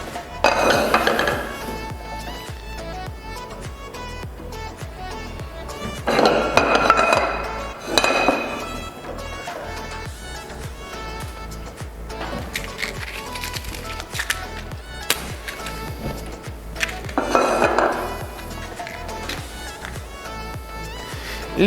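Pots and frying pans clink and clatter on a stove in a cooking class, with scattered metallic knocks and scrapes through a steady low background and occasional louder bursts of handling.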